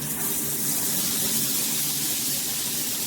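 Water pouring from a wall-mounted black square rainfall shower head with handle set, a dense, steady hiss of spray splashing continuously at close range with no pauses or voices.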